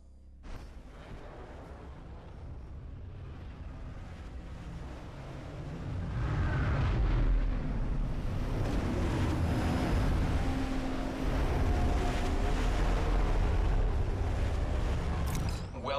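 A dropship arrives in Apex Legends: after a quieter stretch with a voice, a deep, wide roaring rumble swells midway and holds loud and steady, like heavy engines and rushing air close overhead.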